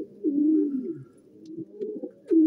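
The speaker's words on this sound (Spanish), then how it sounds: "Ya estamos viendo que la paloma entra." A pigeon coos repeatedly in low, throaty rolling calls, close by, with a fresh coo starting near the end; no one speaks.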